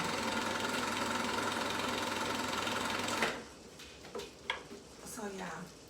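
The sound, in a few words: sewing machine sewing a zigzag stitch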